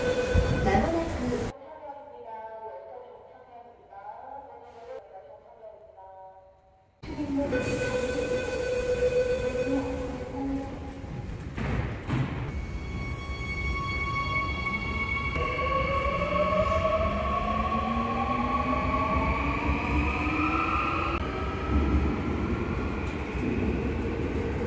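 A Seoul Metro Line 9 subway train at VHS Medical Centre station, the eastern end of the line, is heard. A muffled voice announcement gives way to a loud, steady underground rumble as rising motor whines and squealing wheels build and hold.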